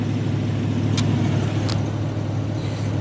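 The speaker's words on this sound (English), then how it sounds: "The choke sticks a little bit on this thing, so she idles a bit high." An old skid steer idles fast, around 1800 RPM, on a cold Christmas start with a sticking choke: a steady, loud low engine drone that holds even throughout, with a couple of faint brief clicks over it.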